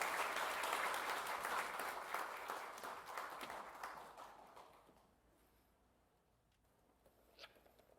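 A church congregation claps to welcome the pastor, dense applause fading out over several seconds into near quiet, with a few stray claps and faint sounds afterward.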